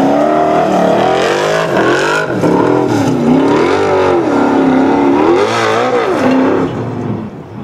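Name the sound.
off-road competition car accelerating on the Formula Offroad course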